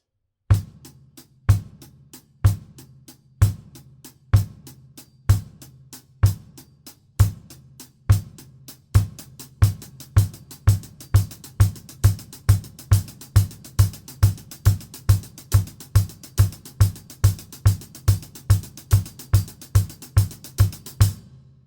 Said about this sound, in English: it's one bass drum to your group of triplets, which is 3 notes.